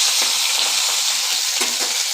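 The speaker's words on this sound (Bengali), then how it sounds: "কড়াইটা গরম হয়ে এসছে মাছগুলো ভেজেছি দিচ্ছি" Bata fish frying in a hot kadai gives off a loud, steady, close sizzle with faint crackles and pops throughout. No one speaks.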